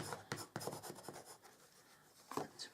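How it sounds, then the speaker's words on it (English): A bone folder is pressed and rubbed over paper in quiet, brief scraping strokes that come in a quick run of scratchy passes, pause, then return for a couple more, close and faint. "I'm just going to use my bone folder just to really press that down."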